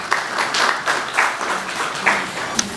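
An audience at a humor gathering applauds to welcome a poet and author, with moderate clapping rising and falling in uneven bursts and a sharp clap near the end.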